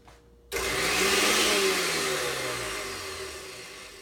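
A stainless steel Vitamix blender motor switches on abruptly after a short quiet moment, running at low speed with a steady whirring roar that slowly eases off.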